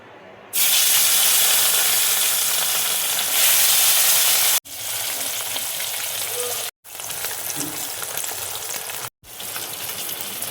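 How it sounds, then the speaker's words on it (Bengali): Fish hits hot oil with a loud, roaring sizzle that settles into a steady, dense hiss of frying, close up, broken by a few brief cuts in the sound. "এবার দেখো মাছটা আমি ভেজে নিচ্ছি।"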